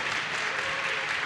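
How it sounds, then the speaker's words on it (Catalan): Audience applause from a small group of people, a dense continuous patter of clapping at steady volume that fills the short moment. "un aplaudiment per ells"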